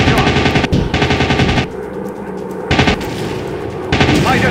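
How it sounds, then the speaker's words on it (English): Spitfire fighter machine guns firing in a combat flight video game, three loud rattling bursts broken by short gaps, with an engine drone underneath. "Wait for my machine guns to charge up"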